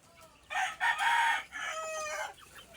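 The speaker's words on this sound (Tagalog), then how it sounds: "daming mga manok dito" A rooster crows loudly nearby in a long drawn-out call, with faint clucking from other chickens around it.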